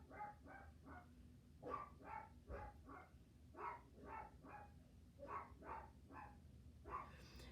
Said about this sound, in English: Every time somebody walks up or down my street or parks in front of my house, my dogs will bark their butts off